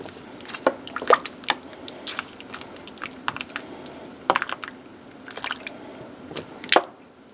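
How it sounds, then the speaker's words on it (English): A turkey pot roast being stirred in a pot, with wet, squishing clicks and drips scattered unevenly through the clip, close and fairly quiet, with no talk. "Give this just a bit of a stir."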